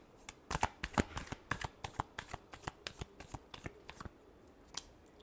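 Tarot cards being shuffled by hand in a quick, uneven run of crisp riffling flutters and soft slaps, close and clear for about five seconds with no talk.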